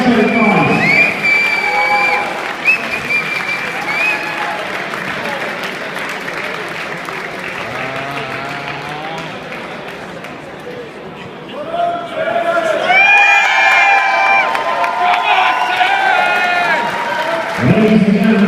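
An arena crowd at a fight event applauds and cheers the two fighters after a bout, a loud sustained roar of clapping and whistles with an announcer's voice carrying over it.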